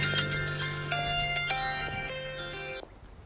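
A phone rings indoors with a bright, melodic electronic ringtone of repeating tones, fairly close and clear, cutting off abruptly near the end.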